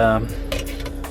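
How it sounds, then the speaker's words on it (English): Dishes and cutlery clink and rattle as they are shifted aside in a compact van kitchen, a few short close clatters with a brief voice at the start. "Get some of these dishes out of the way."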